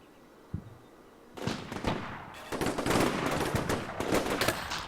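Infantry units in a military strategy game fire on a vehicle in rapid, overlapping bursts of gunfire. The shots come as dense, crackling volleys that grow busier and louder after an isolated early shot. No one speaks.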